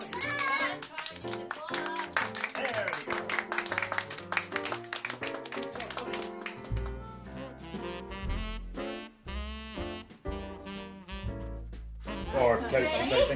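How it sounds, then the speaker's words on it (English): Children at home on Christmas Eve play a dance clap game, with quick rhythmic hand claps mixed with young voices singing and chanting close by. "Hope you enjoy your dance clap game as well."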